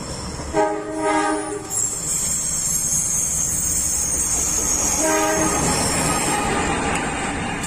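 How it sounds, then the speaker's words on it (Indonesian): KA Singosari, a long-distance passenger train hauled by a CC203 diesel locomotive, sounds two loud horn blasts as it passes close by, with a continuous rumble and rhythmic clatter of wheels over the rails in between. "kereta api jarak jauh KA Singosari dengan tujuan Blitar Pasar Senen PP yang ditarik oleh lokomotif CC203 posisi SH"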